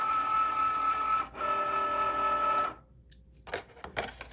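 A Cricut Joy cutting machine whirs steadily as it draws in a cutting mat, a mechanical motor hum with a brief pause, then stopping abruptly and giving way to a few soft clicks and handling taps.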